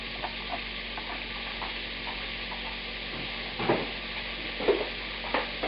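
Chopped cabbage and shallots, salted, sizzle gently in a pan, a soft steady hiss with a few faint scrapes and taps, no voices.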